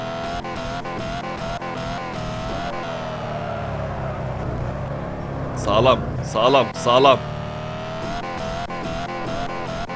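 A drifting car in the dealership video game Car For Sale holds a droning engine note, then breaks into three sharp tire squeals near the end, with excited talking over the sound.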